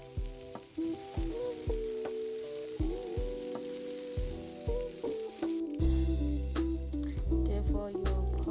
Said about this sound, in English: We started frying our chicken strips.